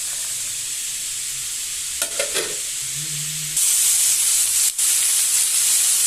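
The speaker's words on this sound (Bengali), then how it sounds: "কেটে রাখা ক্যাপসিকাম আর মটরশুঁটিটা দিয়ে দিলাম।" Chopped capsicum and peas hit a hot pan for vegetable soup, a steady sizzle with brief stirring and clatter midway, then a louder, brighter frying hiss continuing to the end, close and without talk.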